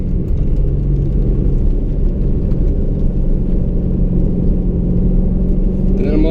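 A Chevy Corvette Z06 with the Z07 package and automatic transmission makes a loud, steady low rumble and drone while driving around a figure-eight track, with engine and road noise dominating throughout.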